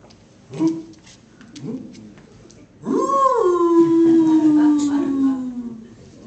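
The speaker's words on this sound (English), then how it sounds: "you are one crazy dog" A dog howls in a long, loud, sliding wail that falls steadily in pitch over several seconds, preceded by a couple of short yips or whimpers and no talk.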